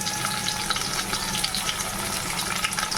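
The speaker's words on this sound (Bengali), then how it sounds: "ওগুলো দিয়ে দিয়েছি এবারে ভেজে নিচ্ছি" Steady, dense sizzling of yam frying in hot oil, a continuous crackling hiss with no voices.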